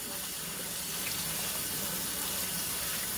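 Warm water pours steadily from a watering source into seed-starting containers indoors, a continuous close splashing and trickling wash with no talk.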